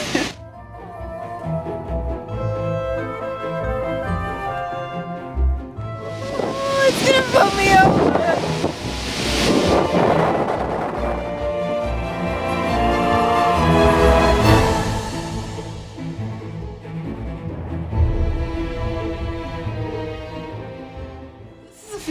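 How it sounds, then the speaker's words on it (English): Strong wind blasting over the rocky cliff at Bran Castle in Transylvania, Romania, roaring and gusting in loud surges across the microphone, with a voice speaking underneath. "One of the windiest places I have ever experienced."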